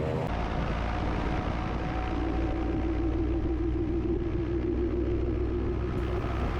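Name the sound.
autogyro engine and rotor blades spinning up for takeoff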